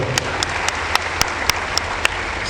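A church congregation applauds, a broad bed of clapping cut by sharp, evenly spaced claps that fall in a quick regular beat, close and distinct above the crowd.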